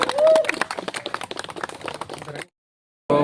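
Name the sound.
crowd clapping at a rally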